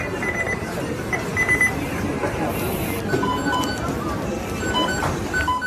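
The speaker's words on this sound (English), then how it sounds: "The beeping of the timer." Electronic timer beeping in a McDonald's restaurant, short repeated high-pitched tones sounding over a busy background of kitchen clatter and murmuring voices.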